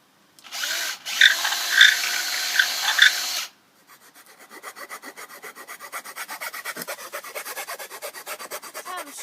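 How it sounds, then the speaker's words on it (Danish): A power drill bores a hole through a wooden stick, a steady rapid buzzing grind running alone for several seconds after a few short bursts of rasping. "så tager du boremaskinen og borer et hul igennem den her pind her"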